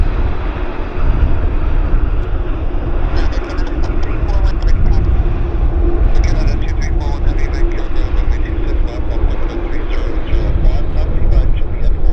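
A Japan Airlines airliner passes at Vancouver Airport, a loud sustained jet roar with steady rumble throughout, while people talk over it.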